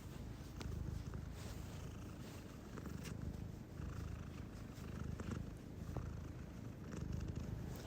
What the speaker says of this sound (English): Here's my cat purring.